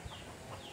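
Chickens at a game farm, five-month-old tall gamefowl, give soft, faint clucks in a low, steady barnyard murmur, with a quick peck of sound near the start and another low cluck midway.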